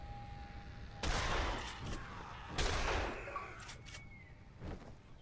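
A shotgun in the video game Dead Island fires two loud blasts about a second and a half apart, each one followed by clanking reload clatter and a fading echo.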